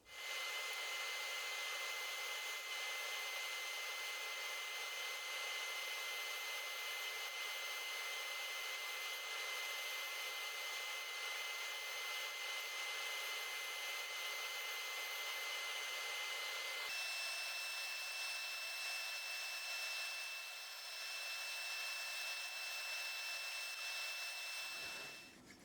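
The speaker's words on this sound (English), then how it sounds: "I've cut all the rings on the bandsaw." A bandsaw cuts the outer rings of a wooden heart lamp, its motor and blade producing a steady loud whine that shifts in tone partway through and then stops abruptly near the end.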